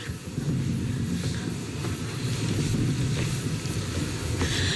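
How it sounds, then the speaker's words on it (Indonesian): Indonesia's presidential aircraft arrives at Halim airport in Jakarta with a loud, steady jet roar and broadband rumble that fills the whole stretch without a break. "pesawat Kepresidenan Republik Indonesia yang membawa rombongan Presiden Prabowo Subianto tiba di Bandara Halim, Jakarta"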